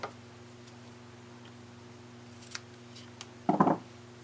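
Scissors snip through two ribbon tails together in one short, crisp cut near the end, after faint ticks over a quiet, humming room.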